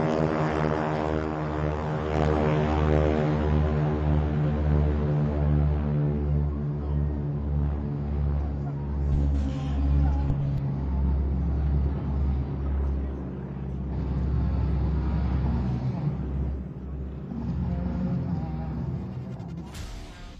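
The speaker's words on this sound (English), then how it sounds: "you'll hear a distinctive sound of some round engines on the takeoff roll. It's Warbird Thunder and their North American" Round radial engines of two North American SNJ warbirds from Warbird Thunder rolling for takeoff at an airshow at Joint Base Andrews, a loud throbbing drone that rises in pitch and swells, then fades, with an announcer talking over it.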